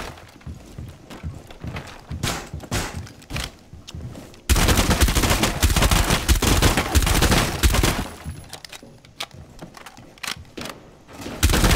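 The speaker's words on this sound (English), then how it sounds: "Someone's shooting out here." Gunfire in Rainbow Six Siege on the Hereford Base map: scattered shots at first, then a loud, dense stretch of continuous automatic fire that trails off into sporadic shots.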